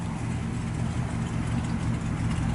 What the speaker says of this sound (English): Got a nice dual exhaust out the back.